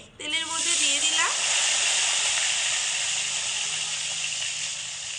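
Chopped tomato hits hot oil with whole cumin and breaks into a loud, steady, close sizzling hiss that holds almost unchanged for several seconds.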